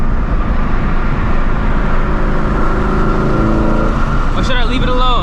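A straight-piped Shelby GT350 roars at full throttle along a highway, a loud continuous exhaust drone heard from the driver's seat, with a rising, sweeping rev near the end.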